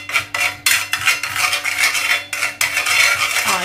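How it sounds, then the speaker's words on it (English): Oil and red curry paste being mixed in a cup, with rapid, close scraping and clinking of a spoon against the sides in uneven bursts, with no talk. "So just mix the oil and the paste together."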